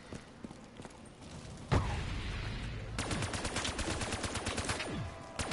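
Rapid gunfire in Black Ops 3 zombies on the Der Eisendrache map: a single sharp shot, then dense automatic bursts crackling close and loud, with layered game sounds and no talk underneath.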